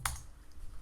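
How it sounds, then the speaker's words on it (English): A single quick keystroke clicks on a foldable Bluetooth wireless keyboard, close and quiet, followed by near silence. "Might just type in foldable Bluetooth keyboard."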